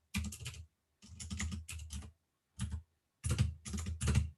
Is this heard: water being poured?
no